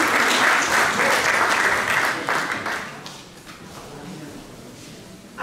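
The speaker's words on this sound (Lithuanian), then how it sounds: "garsiais aplodismentais palydėkime Lendvarę" Audience applause at a stage performance, loud sustained clapping that gradually thins and fades toward the end.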